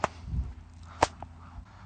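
Two sharp whip cracks from an overhead-style whip cracking technique, one at the very start and a louder one near the middle, followed by a faint smaller snap, with quiet rustling between them and no talking.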